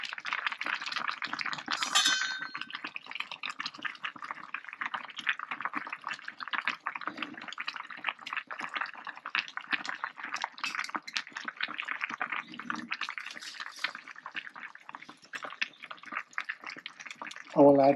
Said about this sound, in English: All right, so it's boiling.